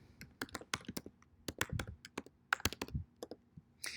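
Email address being typed on a computer keyboard, a quick irregular run of close, crisp key clicks with brief pauses between bursts.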